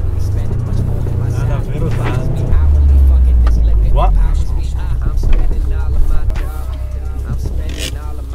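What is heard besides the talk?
Subaru car engine while driving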